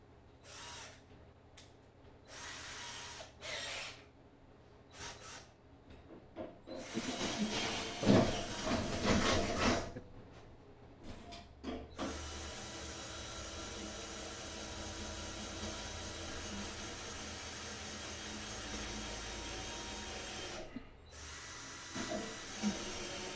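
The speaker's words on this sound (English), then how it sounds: "These cheap Harbor Freight drills." Cheap Harbor Freight power drill whirring in bursts, stopping and starting several times before running steadily as a continuous hissing whine, close but moderate in level, with one short pause near the end.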